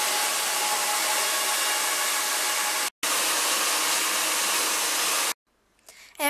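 A hair dryer blows air to dry hair in a loud, steady whoosh that cuts out briefly once, then runs again before switching off.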